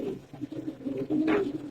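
A silver female pigeon coos at close range, a few soft throaty murmurs and one stronger rolling coo near the end, with no talking.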